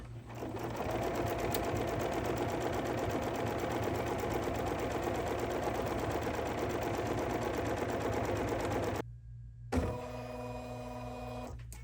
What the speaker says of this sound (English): So now we're going to stitch color number 3.